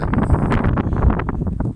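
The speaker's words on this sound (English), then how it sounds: "It's a bit windy out here." Gusty wind buffets a microphone outdoors beside a truck, a steady broadband rush with rustling swells and no voices, loud and continuous throughout.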